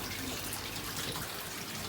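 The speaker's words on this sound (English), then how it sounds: "just filling up with a bit of water" Water runs steadily into a freshly set-up fish tank in a home fish room, with air bubbling from the bottom, a constant broadband rushing and splashing that stays level and close throughout, with no voices.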